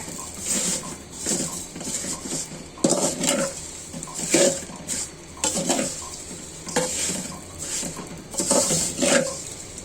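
Kulsun vermicelli being stirred in a little oil in a pan: a sizzling hiss broken by repeated scraping strokes of a spoon against the metal, coming in uneven bursts every second or so, close and fairly loud.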